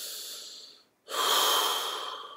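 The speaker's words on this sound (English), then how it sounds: "Take a deep breath." A deep breath during a stress-relief exercise: a soft hissing exhale fading out, a brief pause, then a longer, louder airy inhale, close and alone.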